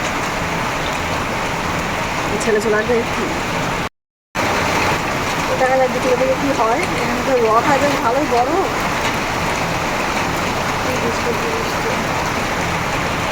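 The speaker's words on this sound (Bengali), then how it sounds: "বৃষ্টি তো হচ্ছে কিন্তু তাও যাই ঘুরে আসি" Steady rain falling during a Rath Yatra fair outing, a dense continuous hiss of drops on surfaces, with people talking close by under it.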